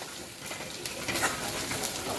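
Ground coriander, cumin and turmeric powder sizzle and crackle in a hot pan, a steady close frying hiss with faint stirring scrapes throughout.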